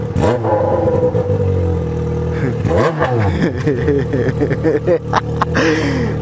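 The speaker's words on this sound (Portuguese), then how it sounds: "barulhão, hein, mano? Essa moto desse moleque" A motorcycle engine revs loudly and close by, its pitch climbing and dropping in repeated bursts of throttle.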